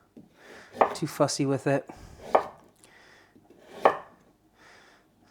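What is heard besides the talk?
knife chopping vegetables into ribbons for stir fry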